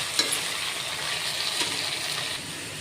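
Potatoes and tomatoes frying in mustard oil with cumin and dried chili tempering, a steady close sizzle and crackle with a few sharper pops, no voices.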